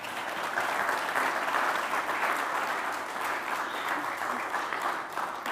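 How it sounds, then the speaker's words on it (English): A church congregation applauds a high school graduate during a worship service, giving steady, sustained clapping from many hands at an even level throughout. "Can we give him a round of applause?"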